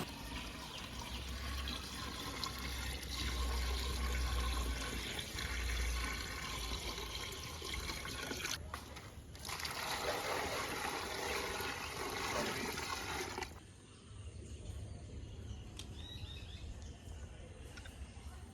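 Water is poured from a bucket into a 1.5 ft aquarium tank, making a steady rushing, splashing pour that carries on for a long stretch before easing into a quieter trickle near the end.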